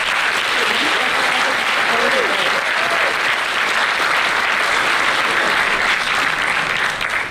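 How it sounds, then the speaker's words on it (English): An audience at a student production awards ceremony breaks into loud, dense applause that carries on without a break for several seconds, filling the room. "Give yourselves a round of applause."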